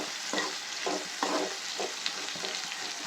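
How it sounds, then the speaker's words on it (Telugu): Something fries in a pan until brown, with a soft, steady sizzle and a few rhythmic bursts of stirring scrapes, moderately quiet and with no voices. "ఇది వేయించుతాను కదా"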